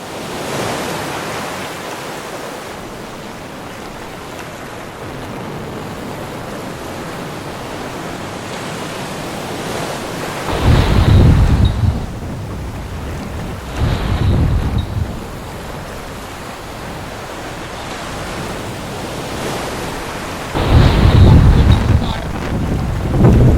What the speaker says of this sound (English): The wind is blowing us onto the shore over there.